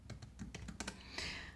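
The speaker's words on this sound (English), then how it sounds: "here now I can just type in a function" Computer keyboard being typed on, about ten quick distinct key clicks in an uneven rhythm, close and fairly quiet.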